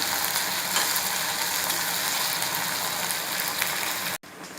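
Soya chilli with a spoonful of tomato ketchup sizzles loudly in a pan as it is stirred, a dense steady frying crackle with faint scraping that cuts off abruptly near the end.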